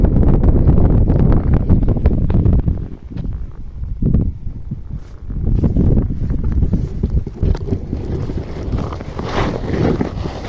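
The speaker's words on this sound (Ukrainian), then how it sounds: "Вітер пшениця шелестить." Steady wind buffeting the microphone with a rustling, whooshing texture through a wheat field, loud and continuous with brief lulls.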